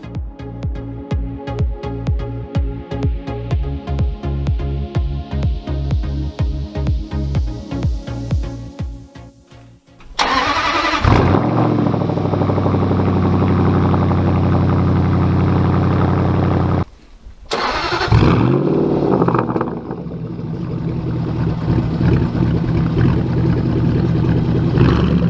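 A Range Rover engine with an H-pipe exhaust idles with a rhythmic burble, then revs hard into a sustained roar, drops briefly, and revs again; no voices.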